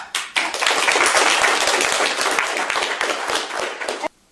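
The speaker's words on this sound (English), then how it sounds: "I would like to ask you to join me in a round of applause for them." An audience at a health care ethics symposium breaks into full, loud applause that swells quickly, holds for about four seconds and then stops abruptly.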